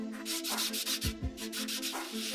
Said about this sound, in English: I'll start out with this relatively rough 120 grit sandpaper